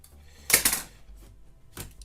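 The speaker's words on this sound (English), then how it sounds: "and that can be done using a pair of scissors." Scissors snip through cord ends while securing a picture frame for hanging, giving a sharp close cut followed by a second fainter snip in a quiet setting.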